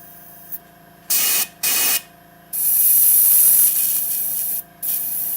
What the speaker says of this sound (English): I'm just cleaning my airbrush out for the color change here real quick.